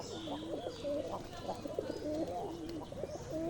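Pigeons feeding on grain coo in soft, repeated rolling calls close by over a quiet background, with no speech.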